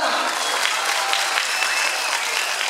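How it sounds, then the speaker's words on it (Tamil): Audience at a Suryan FM radio stage event applauding, a dense, continuous wash of clapping from a large crowd, steady and fairly loud throughout. "ஸோ உங்களுக்கே நீங்க ஒரு பெரிய கிளாப் சவுண்ட் போட்டுருக்கீங்க பார்க்கலாம்."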